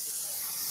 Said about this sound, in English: now I'm using that pulsing steam to steam out any crumples in my batting